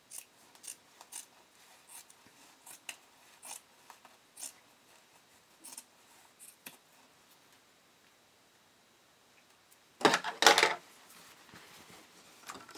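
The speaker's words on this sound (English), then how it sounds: "Trim back your excess fabric." Scissors trimming excess fabric while sewing a bodysuit, a series of quiet, close snips spaced irregularly, then a louder rustling burst of handled cloth near the end.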